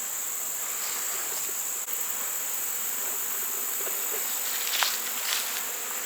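Honey bees buzz around open hive colonies during a smoke-free inspection in an apiary, a steady, close insect hum that fills the air throughout, with a few brief louder passes of individual bees near the end.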